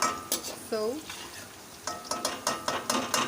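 Onions browning in a pan for chicken biryani sizzle close by while a utensil stirs in quick rhythmic scrapes and knocks, with a brief tonal squeak early on.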